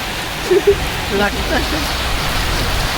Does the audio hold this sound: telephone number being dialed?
no